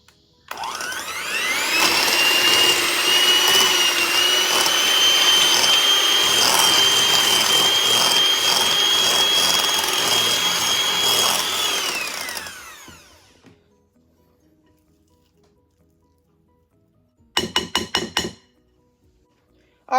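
Electric stand or hand mixer running at medium speed, creaming butter and cream cheese with salt and vanilla for cupcake frosting: a loud steady whir with a rising pitch that runs about eleven seconds and stops, then a brief clatter.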